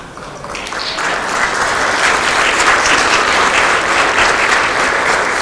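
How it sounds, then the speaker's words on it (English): An audience at a Liberation Day event in Poland bursts into applause, swelling quickly in the first second into loud, sustained, dense clapping that holds evenly to the end. "Thank you for clapping"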